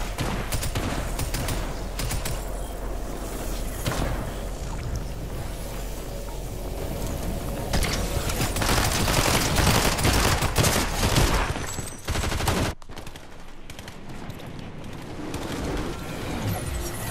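Dense video-game gunfire from a ranked Forever Zone War match crackles almost continuously as bursts of automatic fire and shots, with a brief dip near the end before the shooting resumes.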